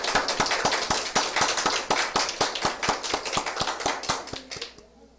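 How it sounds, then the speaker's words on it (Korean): A church congregation applauds in thanks at a year-end service, a dense burst of many hands clapping close and steady for about five seconds before tapering off, with no talk over it. "감사의 박수를 올려드리시겠습니다."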